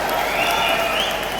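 A crowd claps at an outdoor community rally in Bengaluru's Freedom Park, a steady dense patter of applause heard loudly and continuously, with a sustained tone and background voices running through it.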